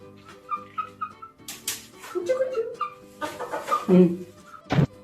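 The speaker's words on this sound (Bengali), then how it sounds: "এবার মুরগিটা ঘর ঢুকবে।" Chickens being shut into their coop at home cluck in short, separate bursts, close and fairly loud, with some scattered background sounds between the calls.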